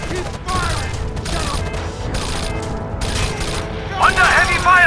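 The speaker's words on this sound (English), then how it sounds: "Under heavy fire!" Heavy gunfire fills a firefight in Rainbow Six Vegas as a dense, continuous clatter of shots with booming impacts. It stays loud and steady throughout, with voices shouting over it.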